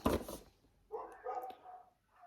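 A dog gives a few short, faint barks at some distance after a brief burst of noise, with quiet gaps between them and no talk.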